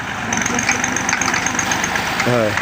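A heavy tractor engine idles steadily with a low, rhythmic chug throughout at a paddy weighing in a field, and a short voice breaks in near the end.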